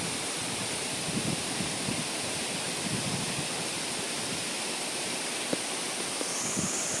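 The Soi Sawan waterfall pours in a continuous broadband rush, dense and steady from start to finish, with faint scattered splashes and no voices.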